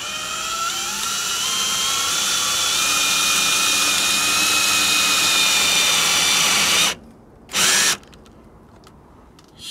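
Power driver runs steadily, driving a concrete screw into a garage wall with a loud, continuous whine that cuts off abruptly, followed by a brief second burst.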